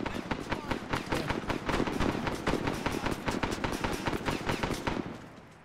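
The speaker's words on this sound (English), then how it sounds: "Is there another guy shooting?" Rapid automatic gunfire from the ARMA 3 military shooter game rattles in dense, loud bursts of evenly spaced shots for about five seconds, then stops abruptly.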